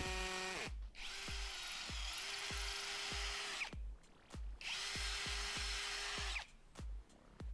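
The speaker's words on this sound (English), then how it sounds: "it did the job with no problem at all" A cordless brushless combi drill runs in two long bursts into dense rock, its motor whining steadily while hammering chatter rattles through, with short knocks and pauses between.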